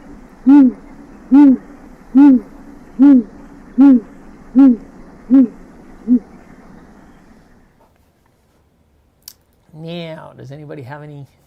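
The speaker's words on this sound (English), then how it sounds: "The only time that these owls usually communicate is during breeding season and when the chicks are born" A breeding-season owl gives seven evenly spaced, loud, close hoots, then falls silent; after a pause a short burst of warbling, wavering calls follows.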